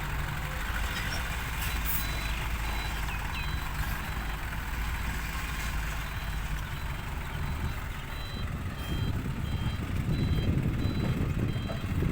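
A dump truck engine rumbles steadily while faint repeating reversing beeps sound in the background, the engine growing louder toward the end as it arrives to dump soil.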